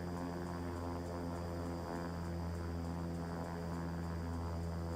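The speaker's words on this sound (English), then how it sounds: "You can hear the engine drop on the other side when we do that." Turboprop engine of a Beechcraft King Air 350 in the X-Plane 12 flight simulator hums steadily through the start sequence, a constant droning whine with strong low tonal bands and no talk.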